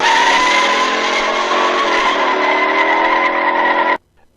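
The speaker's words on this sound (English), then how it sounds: "Then Dawn floors it." Ford Mustang muscle car roars under hard acceleration, a loud close engine howl with a slight squeal that holds steady for about four seconds, then cuts off abruptly into near silence.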